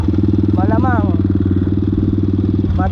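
A motorcycle engine chugs at a steady, loud idle-like putter on a muddy farm road, running throughout while someone speaks over it.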